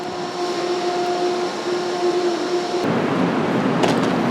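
Steady low rumble and hum inside a moving Amtrak Maple Leaf train, with a constant whine and a sudden shift in the noise partway through; no talking.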